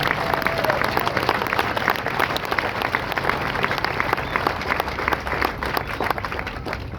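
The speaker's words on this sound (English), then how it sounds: "would you join me in a round of applause for our recruiters and our combat instructors?" An audience at a Marine graduation ceremony applauds steadily, a dense, continuous wash of clapping from a large crowd, moderately distant and without talk.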